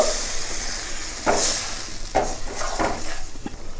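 Flat beans are stirred in a hot pan, with a steady sizzle under several scraping and clinking spoon strokes, close and moderately loud, with no voices.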